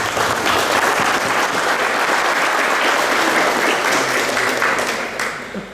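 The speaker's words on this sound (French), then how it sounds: "On peut vous applaudir pour tout ça." A crowd at the Racing Besançon club's official 2019/20 team presentation breaks into loud, dense clapping that holds steady for several seconds before starting to fade at the end.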